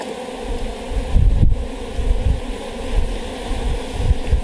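Dense, steady buzzing of many honey bees swarming close by as a brood box is added to a hive, a continuous droning hum with no voices.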